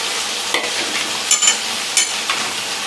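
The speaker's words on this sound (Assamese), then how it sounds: "আলুখিনিও মই এতিয়া ভাজি ল'ম ধুনীয়াকৈ বুটৰ লগত।" Chopped potatoes fry with boiled chickpeas in a hot pan, giving a steady soft sizzle with three or four brief spoon scrapes as they are stirred.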